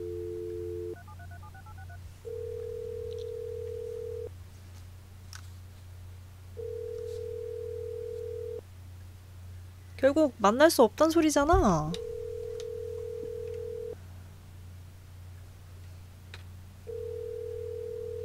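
Telephone ringing unanswered in the video game OneShot, repeated electronic ring tones in regular bursts over a low hum, with a brief spoken line in the middle.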